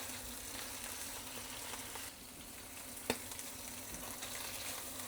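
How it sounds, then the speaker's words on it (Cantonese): Salmon steak sizzling in a non-stick wok over high heat, a steady soft hiss of frying with a brief sharp crackle about midway, no voices. "慢慢咧我哋會聽到咧一啲比較熟悉嘅吱吱聲"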